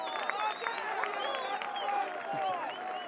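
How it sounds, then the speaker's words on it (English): Stadium crowd at a soccer match between Loudoun United FC and Philadelphia Union II, applauding and cheering the referee after a yellow card; a steady, distant wash of clapping and voices with whistle-like tones on top. "The crowd applauding the referee for the yellow card."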